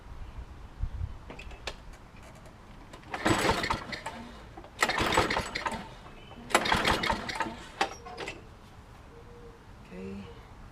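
Small gasoline lawn mower engine being pull-started, several short bursts of cranking and sputtering that die away between quiet pauses, close by.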